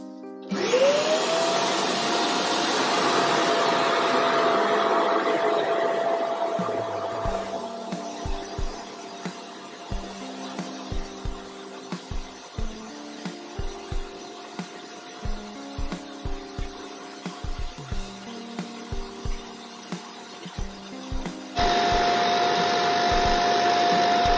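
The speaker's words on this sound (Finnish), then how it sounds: "mä laitan päälle tuolta niin sekä syötön että imurin ja alan hitain vedoin sitten niin puhdistamaan tuota mattoa" A Kärcher Puzzi 8/1 carpet washer drones loudly throughout, spraying and vacuuming a rug, its motor whine steady, with rhythmic thumps and swishes as the nozzle is pushed and pulled in slow strokes.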